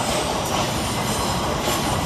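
A Class 387 Heathrow Express train pulls out of London Paddington with a steady, loud rumble of wheels and traction noise filling the station, heard close and without voices.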